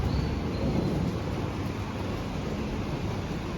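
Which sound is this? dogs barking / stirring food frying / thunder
thunder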